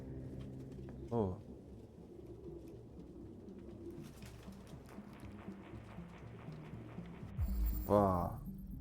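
Pigeons coo in a Detroit: Become Human game scene, soft repeated murmuring calls sitting low under steady ambient background, with a couple of brief louder flutters or accents.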